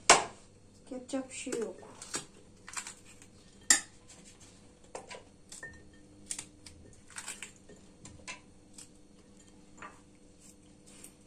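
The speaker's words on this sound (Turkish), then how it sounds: "Böyle doğruyorum arkadaşlar. Bunlar acı." Knife chopping hot peppers for pickling, a run of sharp clicky cuts and clatter close by, with a person speaking briefly between the chops.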